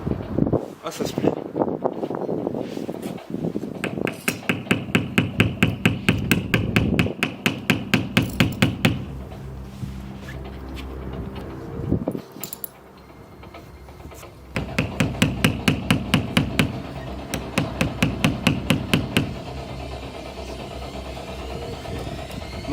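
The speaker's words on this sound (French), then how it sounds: "Et un marteau, j'essaie de le traverser de l'autre côté." Repeated hammer blows drive a fondue pick through rubbery windshield sealant on a broken car windshield. The close metallic taps come in fast bursts separated by pauses, and someone speaks over parts of it.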